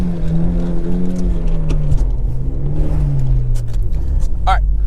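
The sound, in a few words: Hyundai Genesis Coupe revving while drifting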